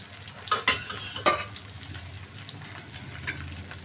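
Boiled taro tossed with chili, salt and turmeric is stirred in a pan, giving a few soft scraping strokes and light sizzling, faint and close with no voices.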